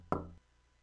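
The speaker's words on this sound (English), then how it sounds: "Knocking gets no response." A single dull knock on a neighbor's door in The Crooked Man video game, short and close, followed by quiet.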